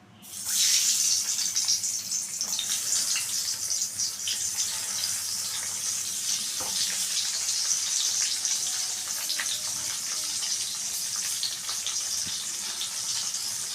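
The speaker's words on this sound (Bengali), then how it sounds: "তো এবার আমি এই তেলের মধ্যে বেগুনগুলোকে ভেজে নেব।" Eggplant pieces fry in hot oil in a kadai, giving a loud, continuous, close sizzle that holds steady throughout with a few faint crackles.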